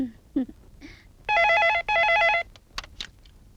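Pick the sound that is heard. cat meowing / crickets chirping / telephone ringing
telephone ringing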